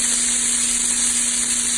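Carrots, celery and onions sizzle loudly in a hot pot for corn chowder, a steady dense hiss of frying without pause and no voices.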